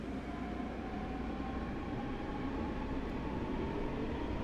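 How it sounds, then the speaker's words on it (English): A train in a snowy train simulator game runs with a steady rumble and rolling wheel noise, plus faint sustained tonal whines, moderately quiet and continuous with no voices. "This train's as annoying as a German V90."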